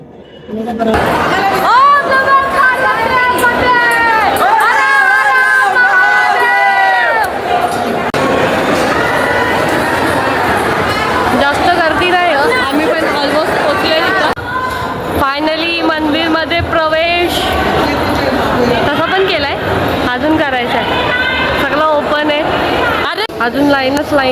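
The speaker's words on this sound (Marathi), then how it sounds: "लोक गोंगाट घालतात" Noisy crowd of pilgrims chattering in a temple darshan queue at Ujjain Mahakal, a dense, loud, continuous babble of many voices close by, with individual people talking and calling out over it.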